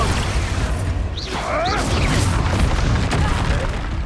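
Expulso explosion spell cast in Hogwarts Legacy, a deep booming blast with crackling debris and whooshing magic effects, while a voice shouts over the dense game action.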